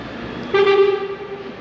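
A single horn sounds once, a sustained steady honk lasting about a second before fading out.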